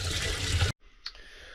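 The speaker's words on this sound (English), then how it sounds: "So let's start filling this water tank up." Water pours into a motorhome's fresh water tank in a loud close rush that cuts off abruptly, leaving a quieter trickle and a brief splash.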